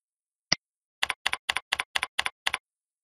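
Keys tap on a computer keyboard in a quiet room: one single click, a short pause, then a quick, regular run of about seven crisp paired keystrokes.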